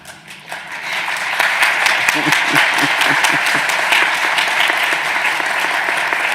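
Delegates at a conference plenary session applaud the chair, a broad sustained wash of clapping from a large audience that swells after a soft start and holds steady, with a voice faintly present.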